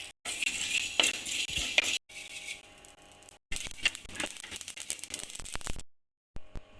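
Fenugreek seeds dry-roasting in a pan for an oil brinjal kuzhambu give a close, steady dry rattle and skittering clink as they are stirred, broken by a few short pauses.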